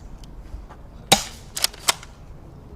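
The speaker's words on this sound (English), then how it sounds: "Let me shoot your gun and embarrass you" Gunshots at target practice: a sharp crack, then a quick cluster of two or three more, fairly close, with faint voices around.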